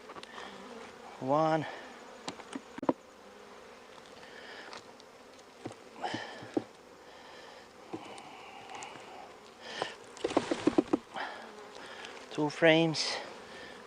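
Honey bees buzz steadily around an opened hive during a September inspection, with frames being lifted toward a nuc; someone talks intermittently over the continuous near hum, with occasional handling knocks.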